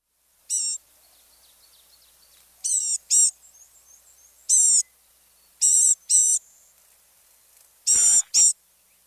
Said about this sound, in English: just one note and very high-pitched nasally sound of the gnatcatcher